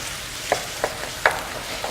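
Goulash meat browns in a hot pan with a constant soft sizzle, while a utensil stirs it in several quick scraping strokes about every half second.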